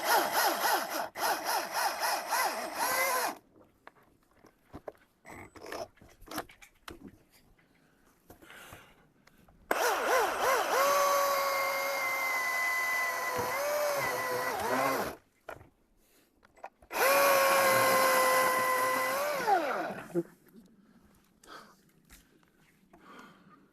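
A saw cuts through tree limbs from a ladder during solo tree felling, in two long close strokes separated by quiet pauses, with scattered small knocks and rustles between them.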